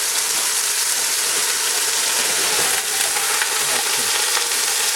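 Two pounds of ground round beef dropped into hot oil in a pan for beer and cheese chili, giving a steady, loud, close sizzle of frying meat that runs unbroken throughout.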